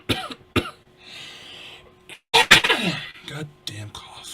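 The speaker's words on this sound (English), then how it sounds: "Goddamn cough." Someone coughs sharply a few times close by, with speech and throat noises in between.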